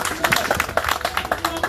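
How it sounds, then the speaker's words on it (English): Audience clapping for a woman during a police coaching session on local needs policing, a dense, steady patter of many hands close by, with a voice talking over the applause. "All of us, I want to see all of you clapping for her."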